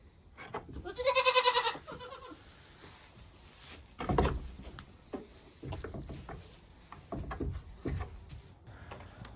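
Sheep on a farm give one clear, wavering bleat, followed by quieter scattered rustles, thumps and faint insect chirps in an open outdoor setting.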